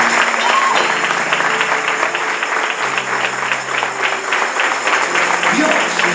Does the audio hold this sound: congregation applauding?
yes